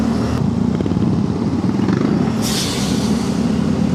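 A motorcycle rides along a road in Bataan toward Mt. Samat, its engine a steady, close, low drone with some clatter and a brief wind-like rush partway through, with no talking.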